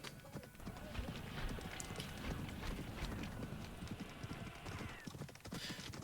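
Horse hooves clip-clop in a video game, a steady run of quick hoofbeats carrying across the whole stretch at moderate volume, with faint game ambience around them.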